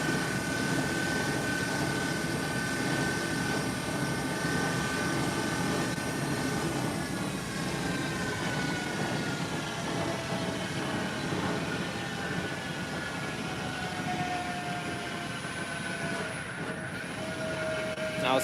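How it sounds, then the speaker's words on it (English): A machine cutting a taper on the bottom spindle of an instrument part, a steady mechanical whir with tonal whines that slowly glide in pitch, continuous and fairly close throughout. "Now it's cutting a taper on the bottom spindle."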